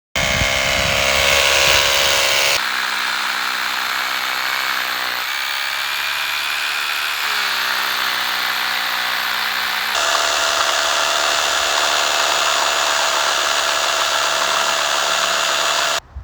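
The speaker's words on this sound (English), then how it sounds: "So we're going to use a hammer drill, and we'll be using some water with it too, so we can get through there." A hammer drill bores through rock with water as the bit works in, producing a steady, loud, continuous grinding whine. Its pitch shifts a few times over a long run with no pauses.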